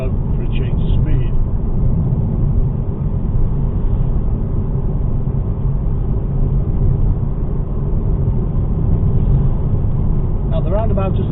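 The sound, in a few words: car accelerating to 40 mph, shifting up to fourth gear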